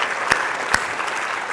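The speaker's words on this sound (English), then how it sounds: "a round of applause" An audience at a nurses' association meeting in Thunder Bay applauds, a steady wash of clapping with a couple of sharp louder claps standing out.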